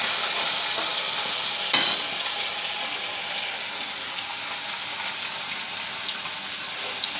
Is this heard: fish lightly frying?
yes